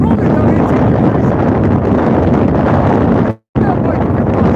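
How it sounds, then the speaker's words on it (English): Strong wind buffeting a phone microphone while fishing on a cold, very windy day, a loud continuous roaring rumble that cuts out briefly near the end before returning. "The wind blowing over."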